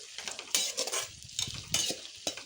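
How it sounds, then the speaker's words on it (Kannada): Field beans (avarekalu) frying in oil in a pan, soft sizzling broken by irregular scraping and clinking of a spoon stirring against the metal, close and fairly quiet, with no talking. "ಆಯಿಲಲ್ಲಿ ಫ್ರೈ ಮಾಡಿ 5 ಮಿನಿಟ್ಸು."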